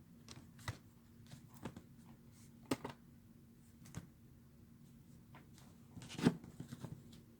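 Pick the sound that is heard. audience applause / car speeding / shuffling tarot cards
shuffling tarot cards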